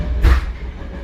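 A passenger train rolls along on the line between Tulln and Vienna, a close, steady low rumble from inside the carriage with a brief louder clatter near the start.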